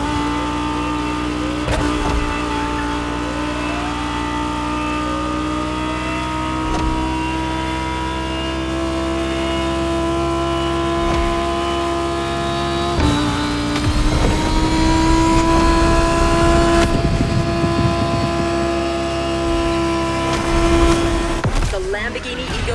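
A Lamborghini Egoista in The Crew Motorfest accelerates hard out of a run of curves, its engine note climbing steadily and loud, with a brief gear-change dip midway, then rising again under background game music.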